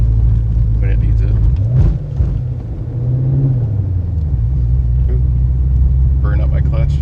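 A 2009 Dodge Challenger R/T with its Hemi V8 and six-speed manual runs as a steady low rumble, with one brief rise in revs partway through; someone talks over it now and then.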